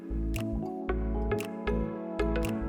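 Cold serum-soaked eye patches peeled from a plastic tray, giving soft wet squishes and sticky drips in a few distinct bursts, close and quiet with no talking.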